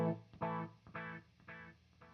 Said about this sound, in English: it's adding sound like a phase type of effect on top of the echo itself